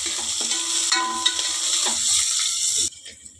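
Mustard seeds, dried chilli, curry leaves and onion sizzle in hot oil in a pan, a steady close crackle with scraping stirs, before it cuts off near the end.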